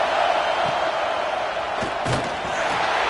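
A home stadium crowd roars in the College Football 26 video game as the defense faces third down, a loud sustained wall of cheering with a few sharp thuds and shouts rising within it.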